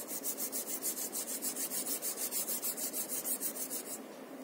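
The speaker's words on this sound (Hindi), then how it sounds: "अब हम इसे हल्के हाथों से थोड़ा रब करेंगे" A Veet cold wax strip is rubbed back and forth over skin with light hand strokes, giving a steady, rhythmic close-up rasping swish that repeats evenly for about four seconds, with no talking.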